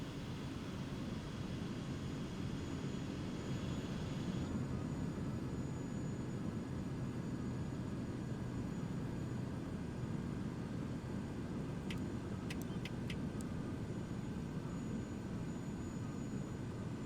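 Kodiak aircraft in Microsoft Flight Simulator on a slow approach to a bush strip in Papua New Guinea, its engine a steady even drone at low level, with a few faint clicks near the end.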